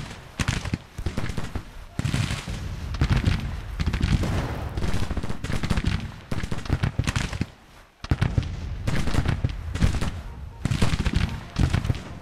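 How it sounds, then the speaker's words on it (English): Dense, crackling rifle volley fire from massed Civil War infantry in a video game, with overlapping shots in rapid bursts that fill the clip, loud and close, briefly pausing before another ragged volley erupts. "Oh, that was a deadly volley."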